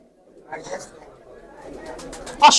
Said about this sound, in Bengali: এই যে এটা মাদি কবুতর মাদি কবুতর